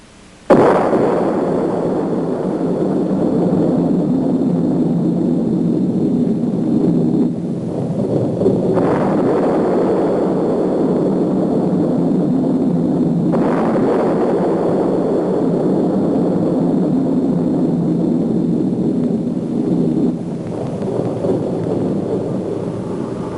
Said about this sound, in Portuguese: A primeira explosão atômica chocou o mundo.